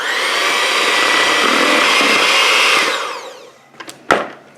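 An electric hand mixer beats pumpkin cannoli filling with vanilla extract, a loud steady whir that runs for about three seconds, then winds down and stops, followed by a few light clicks and knocks.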